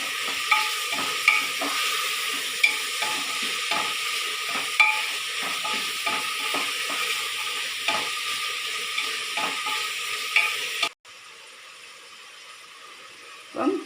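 Onion, tomato and green chilli sautéing in a pan for beef curry, a steady close sizzle broken by regular scraping and clinking stirs, ending in a quieter stretch with a final knock.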